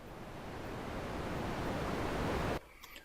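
A synthesized fan noise built from white noise makes a steady, even hiss that holds at a constant level, then cuts off abruptly near the end, leaving a quieter tail.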